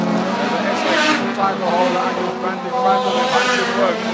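Race cars lapping a reopened oval track at Weskus, engines droning steadily and closely throughout, with the race leader starting his final lap and a commentator talking over the noise.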